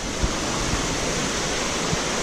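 Wang Kan Lueang waterfall in Lopburi during the rainy season roars as a dense, unbroken rush of falling water, loud and close, with a few soft low thumps and no voices.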